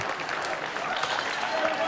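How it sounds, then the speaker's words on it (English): At an independent wrestling elimination match, a crowd cheers and applauds in a steady, dense roar that holds throughout the short stretch, with a commentator's voice faintly mixed in. "As this crowd coming alive for Black."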